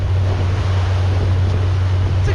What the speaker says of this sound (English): You see where it hit some choppy waves